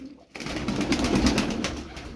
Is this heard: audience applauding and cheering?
no